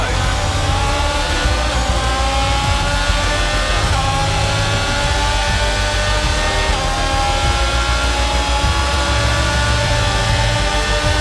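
The Haas F1 race car in F1 22 gives a continuous loud engine roar at the Brazil race, high-pitched and sustained with slight shifts in pitch and no pauses.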